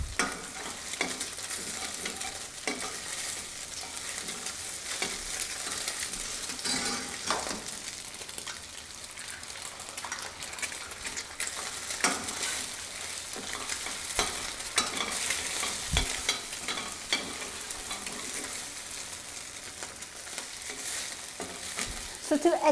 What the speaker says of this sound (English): And then you scramble it in the pan.